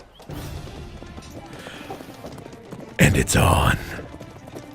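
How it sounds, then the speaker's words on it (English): Horses trot on a road pulling a cart, with a rhythmic clip-clop under a background of game-table ambience. A brief louder crash and clatter burst comes near the end, and a voice speaks briefly. "the horses are working a little bit. Trotting a little bit."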